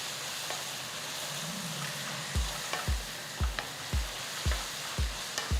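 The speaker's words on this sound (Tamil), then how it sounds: "நல்ல கோல்டன் ப்ரௌனாக ஆகிற வரைக்கும் வதக்குங்க." Chopped onions and green chillies sizzle and fry in a pan at a steady hiss, with a run of regular knocking stirs from a spoon striking the pan in the second half.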